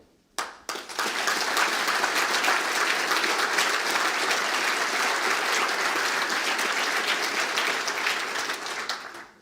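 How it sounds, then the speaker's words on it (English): Sustained applause from a large audience at an entrepreneur awards ceremony fills the room, starting with a few sharp claps and then swelling into a steady, dense roar that holds for several seconds before tapering. "We applaud you, one and all"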